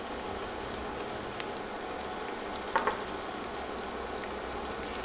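Chopped garlic, onion and whole cumin seeds fry in hot oil with a soft, even, rain-like crackle and one small utensil clink partway through; no voices.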